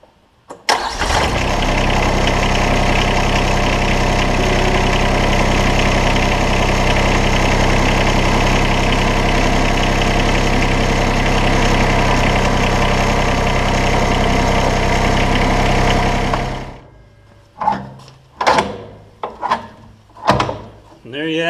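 A TYM R25 compact tractor's diesel engine cranks, catches and then idles loudly and steadily for about fifteen seconds. It cuts off, and a series of sharp clanks and knocks follows, close by, as the loader bucket is latched back on.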